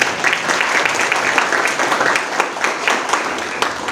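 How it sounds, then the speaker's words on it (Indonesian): Church congregation at a Sunday service at a theological school breaks into full, dense applause that fills the room steadily, with scattered sharper claps over the wash. "Tepuk tangan bagi Yesus."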